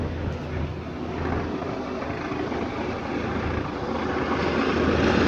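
A police helicopter approaches overhead with a continuous, fairly faint rotor and engine drone that grows slightly louder toward the end.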